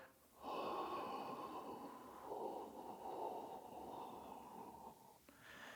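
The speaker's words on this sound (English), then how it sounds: "So we're gonna do that on a gentle exhale." A gentle, steady exhale during a breathing exercise, a soft airy breath sustained for about five seconds, close and quiet, with no talking.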